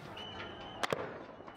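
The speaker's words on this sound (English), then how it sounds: "The sound of gunshots in the capital Khartoum as tear gas is used to disperse the crowd" Gunshots ring out in Khartoum as security forces fire tear gas to disperse protesters, two quick sharp cracks close together at a distance, over faint street ambience.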